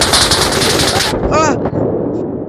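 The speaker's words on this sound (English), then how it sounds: "Oh, I'm getting shot at." Loud, continuous automatic gunfire in a VR shooter game, a dense rapid burst that breaks off briefly before resuming, with a short voiced exclamation over the shooting.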